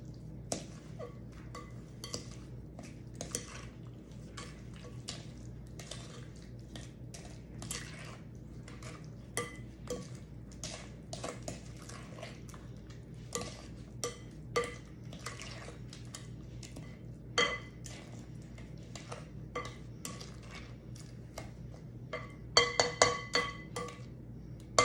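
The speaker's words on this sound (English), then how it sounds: "Stir that around." Spoon stirring pear cobbler mixture with nutmeg in a bowl, a quiet run of irregular clinks and scrapes against the dish, with a quicker burst of taps near the end.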